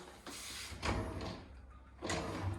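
Kitchen drawers in a Valencia apartment slide open and shut, two soft rolling sweeps with a muffled bump, fairly quiet in a small room.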